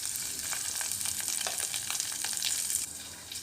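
Curry leaves and green chilies fry in hot oil for a tomato drumstick curry, giving a bright, continuous sizzle dotted with quick crackling pops, close and steady with no talking.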